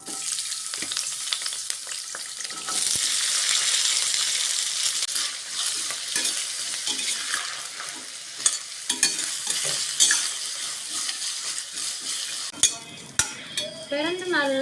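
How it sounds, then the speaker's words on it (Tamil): Cleaned pirandai (adamant creeper) sautéed in oil in a pan: a loud, steady sizzle with frequent spoon scrapes and clinks against the pan, growing more clattery toward the end. "எண்ணெய் ஊற்றிட்டு கழுவி சுத்தம் பண்ணி வச்சு பிரண்டையை சேர்த்து நல்லா வதக்கி எடுத்துக்கலாம்"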